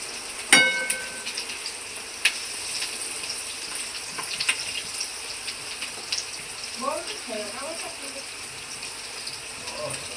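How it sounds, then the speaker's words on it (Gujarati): Sugar water is poured into a hot pan for Surti khaman, giving a splashing gush over soft sizzling, with a clink at the start and faint voices in the background. "હવે નાખી દેવાનું છે ખાંડનું પાણી."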